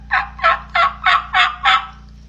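Wild turkey calling in six loud, evenly spaced bursts, a rhythmic run of gobble-yelp notes close by with no talk.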